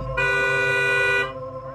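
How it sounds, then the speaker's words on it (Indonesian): A car horn blares in one sustained, shrill honk lasting about a second, loud and close, set against a quiet forest on a remote road in Southeast Sulawesi. "suara klakson yang melengking di tengah hutan yang sunyi"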